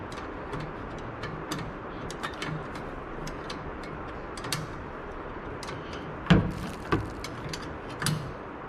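Ratchet wrench tightening a rear brake caliper bolt on a 2018 Chevrolet Silverado 1500, a 21 mm wrench holding the slider, giving light repeated clicks through the clip and a louder cluster of clicks near the end.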